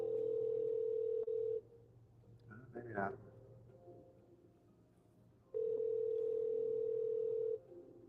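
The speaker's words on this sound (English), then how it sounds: "As soon as the phone starts ringing, the door will open." Outgoing phone call ringing: two long, steady electronic ring tones separated by a quiet gap, fairly clear and close, with a brief spoken remark in the pause between them.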